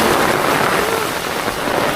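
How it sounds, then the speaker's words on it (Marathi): A dense, loud roar of heavy rain pouring down steadily, with no breaks throughout. "अरे केवढा जोरात पाऊस झाला जास्त जोरात पाऊस झाला"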